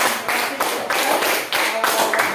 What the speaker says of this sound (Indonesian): Jadi tepuk tangan untuk ketiga teman dan